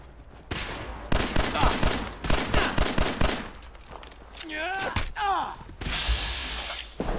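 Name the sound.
gunfire in Fallout 4 video game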